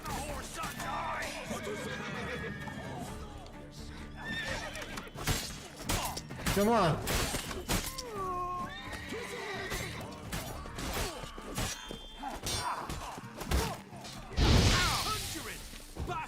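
Horse neighing in The Witcher 3: Blood and Wine, a whinny rising amid clashing combat sounds, crashes and shouted voices.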